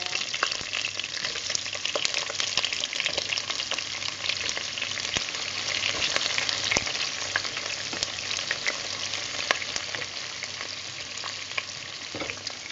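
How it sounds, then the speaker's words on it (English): Chopped onions sizzle steadily in hot coconut oil, a dense, even frying hiss that stays close and continuous with faint stirring clicks and no voices over it. "I'm going to add my onions to the oil."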